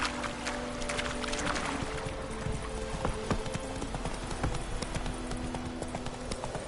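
Roach the horse gallops in The Witcher 3, with rapid rhythmic hoofbeats thudding close and steady, plus a faint hum behind.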